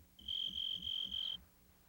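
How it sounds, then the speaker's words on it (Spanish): A tree cricket chirps in a sustained, high, pure trill, broken into four quick pulses, clear and close, then stops. "El grillo arborícola construye un sistema de sonido con una hoja."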